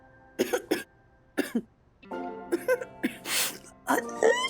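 A person with a slight cold gives several short, sharp coughs in quick bursts, close and clear, followed by throat noises and a voice speaking between them.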